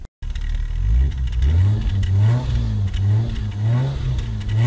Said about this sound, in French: je vais te mettre des petits coups d'accélération